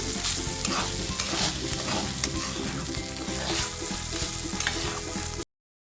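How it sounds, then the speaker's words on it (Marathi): Rice being stirred and roasted in a hot pan for chicken biryani, a loud continuous sizzle with scraping stir strokes close by, no voices. "इकडे तांदळालाही हलवून घ्यायचं आहे."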